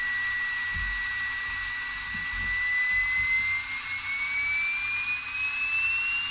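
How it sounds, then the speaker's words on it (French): A Hot Wheels Aerocargo toy plane plays an electronic jet-engine acceleration effect at the press of a button, a steady whine rising gradually in pitch over several seconds, loud and harsh, with faint handling thumps underneath. "Si on appuie dessus, normalement, selon ce qui est marqué sur la boîte, il devrait y avoir un bruit d'accélération."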